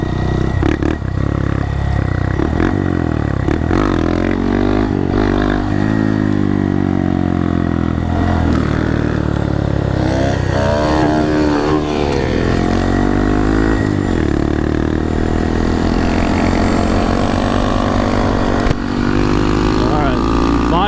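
A Honda Monkey motorcycle fitted with a Yoshimura low-volume exhaust insert rides continuously, its small engine droning and revving up and down at close range over a steady rumble.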